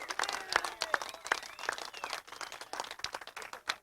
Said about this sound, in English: How about a nice round of applause for Buddy Nelson, the first midget winner at Raven Raceway.